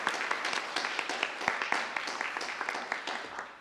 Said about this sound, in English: You deserve a round of applause as well.